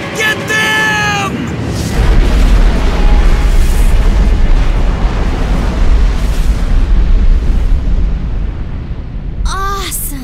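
Nuclear missiles intercepted and blowing up in the Dynasty Warriors Gundam 2 game, a long, loud roaring explosion rumble with a deep low boom that sustains for several seconds, with voiced game dialogue at the start and end.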